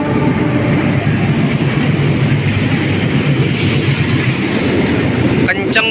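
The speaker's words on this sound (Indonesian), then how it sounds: "Argolawu melintas langsung." The Argo Lawu passenger train passes close by at speed, a loud, continuous roar and rumble of wheels and wind that holds for several seconds, with a few clatters at the end.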